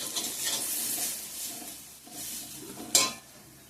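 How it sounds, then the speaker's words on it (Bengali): Potatoes for aloo bhaja frying in a pan, a soft steady sizzle with stirring scrapes and one sharp clink of utensil against the pan near the end, close and moderately quiet. "আলু ভাজাটা করে নিচ্ছি।"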